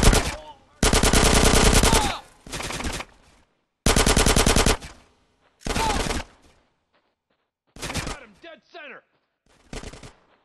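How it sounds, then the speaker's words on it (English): Automatic gunfire in GTA San Andreas – The Definitive Edition, several loud, dense machine-gun bursts of one to two seconds each separated by short pauses, with a few shorter rattling volleys near the end. "Get some suppressing fire in there."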